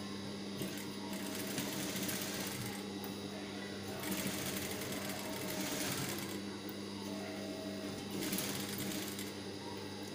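A sewing machine runs steadily through most of the span while stitching the front neck of a blouse, a continuous close mechanical whir with slight surges in speed, and a voice speaks faintly underneath.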